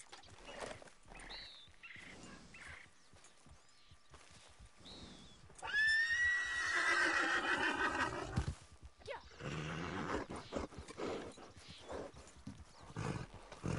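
Horse in the video game Red Dead Online giving a loud, drawn-out whinny, with clip-clopping hooves and brief snorts before and after it.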